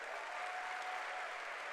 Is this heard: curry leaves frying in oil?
no